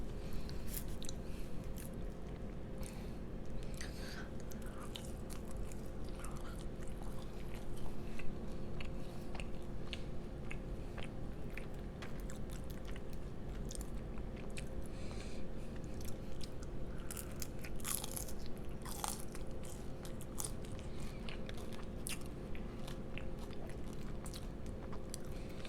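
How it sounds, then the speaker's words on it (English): Fries being eaten during a mukbang, heard as quiet, close chewing and soft crunching bites that repeat over a steady low background hum, with no talking. "I'm gonna finish off the fries."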